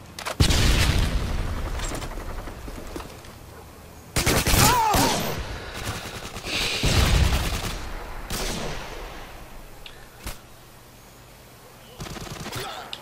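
Gunfire from the video game Modern Warfare 2, with repeated bursts of shots that rise and fall in loudness over several seconds and a voice speaking briefly between them.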